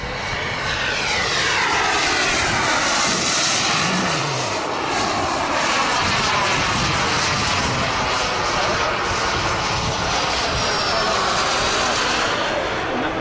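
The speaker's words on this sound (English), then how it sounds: "I wouldn't go out there with that jet flying by the field." A radio-controlled model jet aircraft flies past a field at an RC aircraft meet, making a loud, continuous turbine roar whose pitch sweeps as it passes near.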